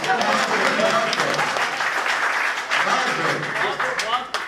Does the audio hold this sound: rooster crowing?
no